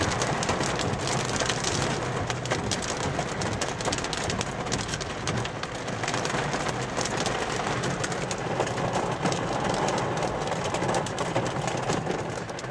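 Small pea-sized hail pelting a car during a storm chase, a dense, steady rattle of countless tiny impacts on the roof and windshield, loud and continuous throughout.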